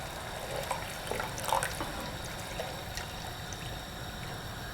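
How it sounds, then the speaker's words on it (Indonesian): Water poured into a hot pan to make the sauce for homemade mapo tofu, a soft continuous trickle and splash with a few brief louder splashes, close and fairly quiet. "Airnya ini saya masukkan 350 ml ya."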